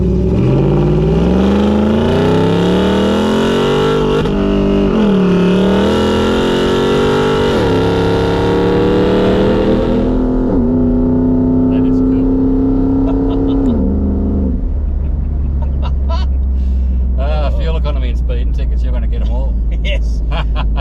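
Supercharged Nissan Y62 Patrol engine while driving, a loud, steady drone whose pitch climbs and shifts as the vehicle accelerates through gears, then settles into a low rumble with some faint clatter near the end.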